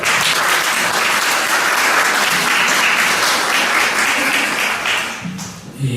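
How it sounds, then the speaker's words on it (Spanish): Sustained applause from an audience at an academic literature colloquium, a dense clapping crowd that holds steady for about five seconds before tapering off at the end. "Un aplauso, por favor."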